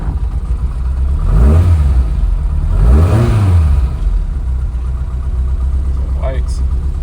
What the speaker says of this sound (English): Let's rev her up a little.